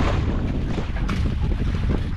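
Wind blowing at sea from a small fishing boat while angling for grouper, a continuous low buffeting rumble against the microphone with a faint wash of water underneath, no voices.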